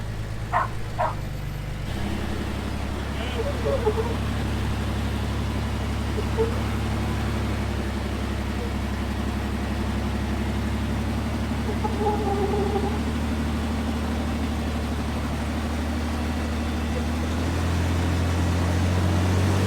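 An off-road vehicle's engine drones steadily at mid-distance while it climbs a steep banana-shaped obstacle, the low rumble holding for the whole stretch and rising slightly near the end, with faint voices and a bird call in the background.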